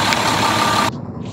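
A Roblox fire ladder truck engine idles loudly with a steady rumble and a high whine, then cuts off abruptly near the end, leaving only a faint low hum.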